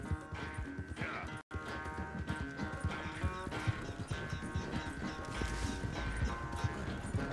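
Horse hooves clip-clop in a steady trotting rhythm in Red Dead Redemption 2, close and clear over game ambience and music, with brief talk mixed in.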